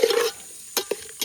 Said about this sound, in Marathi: आता मस्त परतून घेतोय बघा.